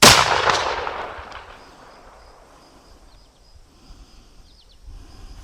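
A single loud CVA Accura LR-X muzzleloader rifle shot cracks at the start, then its echo fades into a quiet outdoor background with faint birds and insects.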